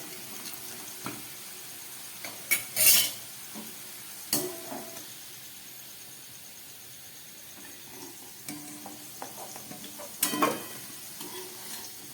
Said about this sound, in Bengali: প্রায় তিন চার মিনিট ধরে আমি আলুগুলোকে খুব ভালো করে ভেজে নিলাম